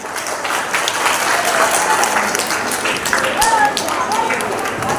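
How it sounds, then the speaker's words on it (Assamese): An audience at a college quiz programme applauds, a steady dense clapping that lasts throughout at moderate loudness, with faint voices mixed in. "এটা হাত চাপৰি হ'ব লাগে"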